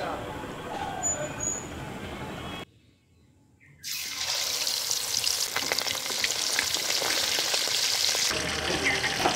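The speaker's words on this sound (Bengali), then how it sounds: "মাছটা ভেজে নেব।" Fish fries in a pan for a fish and pointed gourd curry, a dense, loud sizzle that cuts out briefly and then returns stronger and bright.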